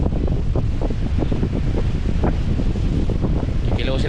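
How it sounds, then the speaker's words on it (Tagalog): A strong northeast monsoon wind, the amihan, buffets the microphone outdoors as loud, continuous, gusty rumbling. "Yan kung napapansin nyo mga tayo, malakas amihan."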